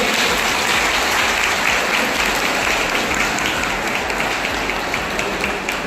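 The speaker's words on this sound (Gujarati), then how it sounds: "માહીને આપણે સૌ ફરી એકવાર ખૂબ તાળીઓથી વધાવી લઈએ" Audience applause at a community get-together and felicitation ceremony, a dense, sustained burst of many hands clapping that fills the whole clip at even loudness, with no voices over it.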